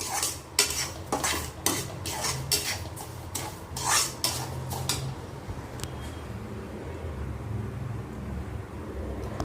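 Semolina roasting in a pan for halwa, stirred with a metal utensil in quick rhythmic scraping strokes for several seconds, then settling into a soft background hiss; close and clear with no speech.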